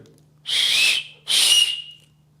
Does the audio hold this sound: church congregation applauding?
no